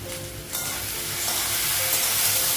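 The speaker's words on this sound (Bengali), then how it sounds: "তারপর একটু ভেজে নেব।" Cumin powder, ginger paste and tomato fry in a hot pan, a steady bright sizzle that swells louder after a brief quieter start, with no talking.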